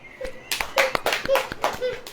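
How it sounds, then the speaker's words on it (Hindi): An audience claps in short, irregular bursts of handclaps at a Hindi-language Christian sermon, with a few voices briefly heard between the claps. "ताली बजाए।"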